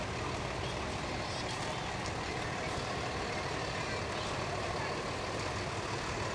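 Kinsman Volunteer Fire Department tanker truck rolling past in a fair parade, a loud continuous diesel rumble and broadband road noise filling the scene steadily throughout.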